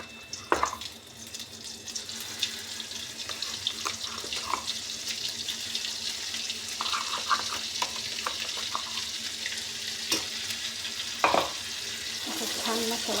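Masala stir-fried in oil in a home kitchen: a steady, close hiss of frying with scattered scraping and clinking of a spoon against the pan, continuing throughout with no talk.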